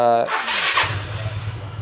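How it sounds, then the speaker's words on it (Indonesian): Suzuki Skywave motorcycle engine starting after a voice, with a quick cranking burst that settles into a steady low idle close by. "udah dibuka dari remote baru motor bisa hidup ya seperti ini"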